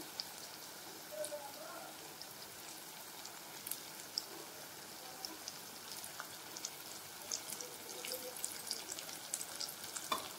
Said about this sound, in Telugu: ఇప్పుడు దీన్ని ఫ్రై చేసుకోవాలి. ఈ వంకాయ బాగా ఫ్రై అయిపోయి మెత్తగా అయ్యేంత వరకు